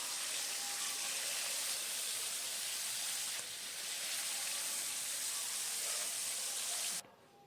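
Marinated rui fish fry lightly in oil in a frying pan, giving a continuous, even hiss of sizzling that holds steady and then cuts off abruptly near the end, with no voices.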